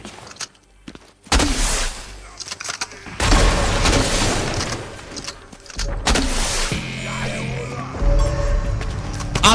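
Gunfire from a weapon in Fortnite, bursts of loud, sharp shots and clattering game effects coming in uneven clusters with brief lulls between them, without speech.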